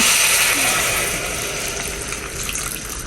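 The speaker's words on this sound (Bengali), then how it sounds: "এবার আমি এর সঙ্গে গরম জল রাখা আছে সেই জলটা ওর মধ্যে দেবো" Hot water is poured into a cooking pot, a loud rushing, splashing pour that starts strong and eases slightly over a few seconds.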